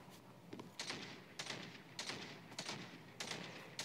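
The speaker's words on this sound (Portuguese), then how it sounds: "Ó, tiro pra cá." Gunfire in the battle royale game Omega Legends: five faint, evenly spaced sharp shots crack out of a quiet background.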